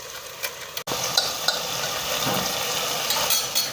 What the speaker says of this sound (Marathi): हे असं मिक्स करून घ्यायचं सगळं दोन मिनटं चांगलं परतायचं आहे